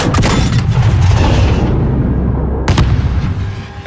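Deep booming explosion from the Call of Duty: Modern Warfare (2019) campaign, one loud blast rolling into a long rumbling decay, followed by a second sharp crack near the end.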